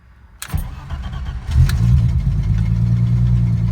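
A 1988 BMW E30 325iX engine, with no idle control valve, cranks briefly, then catches and settles into a steady, loud idle close by.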